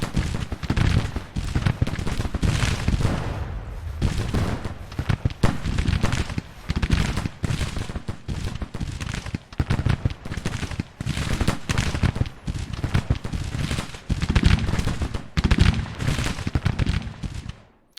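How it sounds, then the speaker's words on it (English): Civil War battle in a strategy game: dense, continuous crackle of musket volleys and booming artillery fire, loud and rapid bursts overlapping throughout with no pauses. "So we have the artillery over here."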